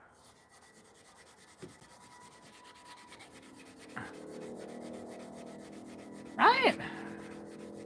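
Steady rubbing of sandpaper worked by hand over BBK exhaust headers, close and continuous, with a few bumps and a louder scuff near the end and a brief spoken word.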